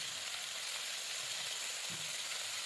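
Chicken pieces frying in a pan with chili powder, a steady soft sizzle and crackle without a break, fairly faint and close, with a few small stirring bumps.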